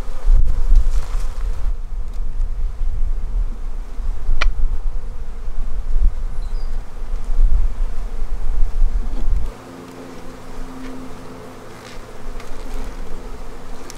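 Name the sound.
bees buzzing around hive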